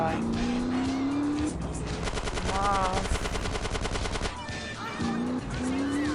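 Rapid automatic gunfire rattles over a droning car engine while enemies are gunned down in the game GTA San Andreas, a steady loud burst lasting several seconds with engine tones before and after.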